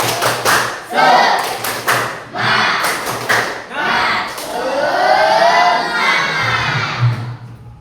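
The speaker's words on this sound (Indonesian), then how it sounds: "Tepuk semangat." A classroom of students performs a rhythmic group clap chant in Indonesian, with loud bursts of synchronized claps and voices shouting together in patterned phrases, close and energetic.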